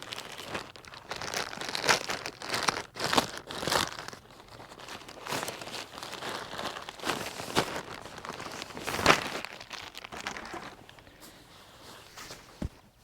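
A plastic bag holding a patio furniture cover crinkles and rustles in irregular bursts close by, with crisp crackling handling noises and no talking.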